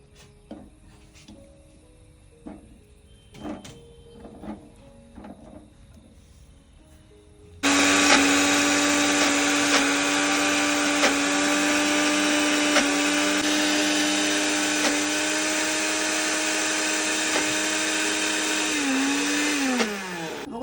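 After some quiet knocks and handling sounds, a mixer grinder whirs on loudly and runs with a steady high-pitched drone, slowing briefly near the end.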